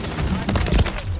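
Rapid bursts of gunfire in the video game Modern Warfare 3 crackle in a quick, dense volley, loud and near, filling the short moment.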